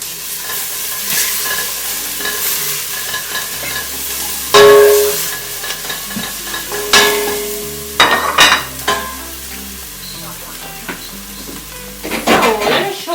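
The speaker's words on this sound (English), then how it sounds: "So this is ginger garlic going in" Ginger and garlic fry in a WMF pot with a loud, close sizzle as a utensil stirs and scrapes the pot base in uneven bursts, with no talking.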